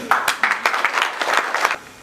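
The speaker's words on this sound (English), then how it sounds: "please give a big round of applause for yourself" Brief, sparse clapping from a small audience at a quiz competition event, a handful of distinct claps in an uneven rhythm over two seconds, close and moderately loud.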